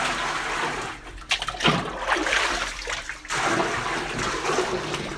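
Water pours and splashes into the separate tank of a traditional wooden Japanese bath, a close, turbulent gushing that surges and eases in uneven waves, with no voices.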